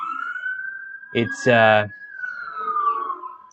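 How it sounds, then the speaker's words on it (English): Loud emergency sirens wail outdoors in a steady, sustained tone, with someone talking briefly over them partway through. "Sorry for all the loud sirens."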